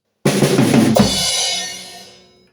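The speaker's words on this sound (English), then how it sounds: "whenever you hit the crash, you don't hit it alone." A single loud crash cymbal struck together with a thumping kick drum, the bright wash ringing out and slowly fading over a couple of seconds.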